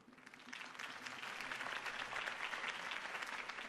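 A crowd applauding steadily for a few seconds in the Telltale Batman video game, a dense wash of clapping that swells slightly and holds, somewhat distant.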